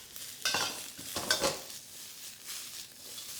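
Onions and peppers fried in a hot pan for a Chinese-style stir-fried vegetable dish, with no talk over them. A utensil scrapes and clatters twice, and a soft sizzle continues in between and afterward.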